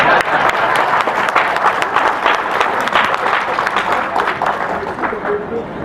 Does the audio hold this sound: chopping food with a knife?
no